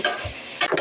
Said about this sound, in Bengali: মাংসগুলো প্রায় ভাজা হয়ে গেছে